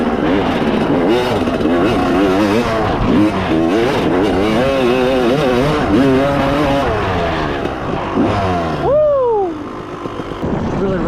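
A 250 dirt bike runs on trails, its engine droning and revving steadily and loud up close with rising and falling pitch, then a quick rev sweep near the end as it backs off.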